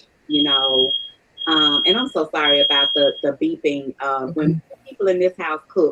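A smoke alarm lets out a sustained high-pitched beep, then beeps again, sounding over a person talking continuously during a recorded podcast.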